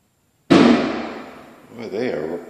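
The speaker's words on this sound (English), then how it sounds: "Boy, they are setting off some fireworks next door." A single sharp firework bang from the neighbouring yard bursts after a short silence and rings out, followed by a faint crackling tail and a bit of voice.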